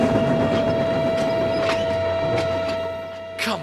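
Edward, a storybook steam engine, labors up Gordon's Hill with a heavy train, a steady rumbling chug with rhythmic puffs and a sustained whistle-like tone throughout, fading slightly near the end before a final burst.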